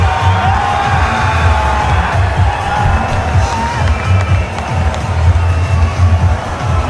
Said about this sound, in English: most of the crowd support and the singing has been coming from exactly where this ball lands